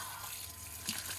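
Water streams steadily from a portable pump shower in an off-grid setup, a continuous soft hiss and splash over about a second, heard alone at low level.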